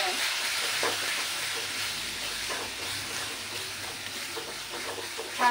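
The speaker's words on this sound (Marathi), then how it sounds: "छान असं आहे ना तेल सुटेपर्यंत परतून घ्यायचं" Chole masala with red chilli powder and homemade spices sautéing in oil, a steady bright sizzle with scraping stir strokes at irregular intervals, close and alone.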